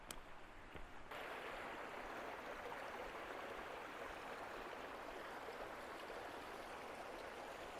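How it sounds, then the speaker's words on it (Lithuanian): A mountain spring near Zakopane flows steadily, its soft, even rush of water held at a low, distant-sounding level throughout, with a brief knock at the start. "Štai ir atėjome iki to šaltinio."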